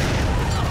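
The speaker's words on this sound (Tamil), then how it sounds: "வெடிச்சிருச்சு." An explosion effect from a Tamil comedy film scene: a dense, loud, continuous roar and rumble of blast noise filling the whole short moment, with no speech over it.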